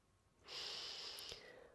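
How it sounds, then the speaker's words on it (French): One long, soft inhaling sniff up close, as if smelling new leather shoes, breaks off with a faint click in a quiet, intimate setting. "et elle les renifle"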